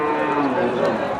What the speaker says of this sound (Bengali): দেখেন এখানে যে ষাঁড়টি রয়েছে অসাধারণ একটি ষাঁড়